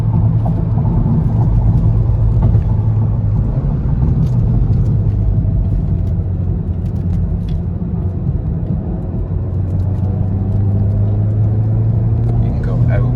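A Volkswagen Golf R heard from inside the cabin on a race track, its engine a steady low rumble under near-constant talking, with the drone rising and falling slightly through the lap.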